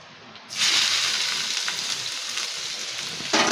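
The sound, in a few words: ingredients poured into hot mustard oil with nigella seeds, sizzling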